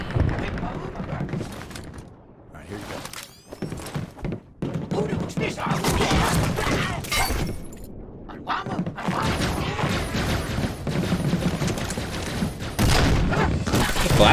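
Rapid explosive bursts, booms and thuds of gunfire pile up loudly in a Halo fan animation battle, including a flashbang blast, with a voice talking over the chaotic action.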